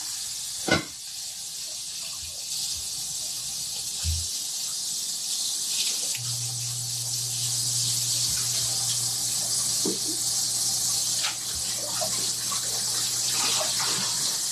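A bowl is rinsed under a running tap in a home kitchen, with a steady close hiss of water and a few light knocks and splashes as it is handled, and no talking.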